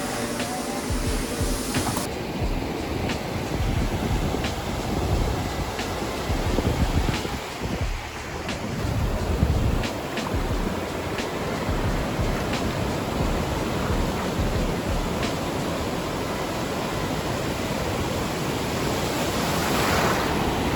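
Ocean waves surge and wash onto the beach at Montezuma, Costa Rica, a steady loud roar of surf with wind buffeting the microphone throughout.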